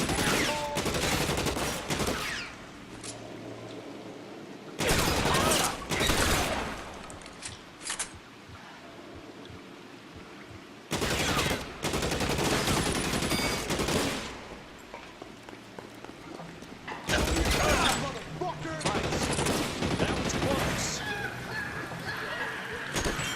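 Gunfight in the video game L.A. Noire: bursts of rapid gunfire and volleys of shots come in loud clusters separated by quieter stretches, with voices shouting between them.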